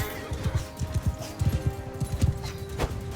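Horses gallop in the Mount & Blade II Bannerlord video game, their hooves beating out fast, uneven clip-clop rhythms under a busy battle mix with a faint whinny and a steady tone in the background.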